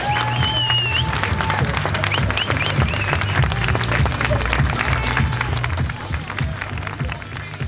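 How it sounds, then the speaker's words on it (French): A large campaign-rally crowd in Beauvais gives sustained, dense applause for a candidate, a steady roar of clapping with cheers and scattered voices that holds loud throughout before easing slightly at the end. "J'aimerais que vous fassiez un tonnerre d'applaudissements pour Roxane Lundi."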